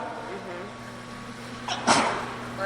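A single short sneeze breaks through near the end, over a quiet hum with faint talk earlier.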